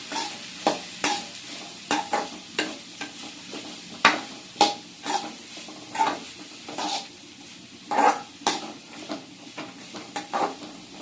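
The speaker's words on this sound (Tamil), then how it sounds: "இந்த காய்கறி மட்டும் கொஞ்சம் வதக்கிடலாம் லைட்டாக." Vegetables for a pickle are lightly stir-fried in a pan, with steady rhythmic scrapes and clinks of a spatula over a soft, continuous sizzle, close and without talk.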